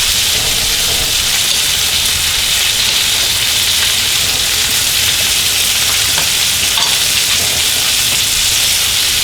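T-bone steak pan-searing in butter with garlic cloves, a steady dense sizzle and crackle throughout, loud and close with no talking.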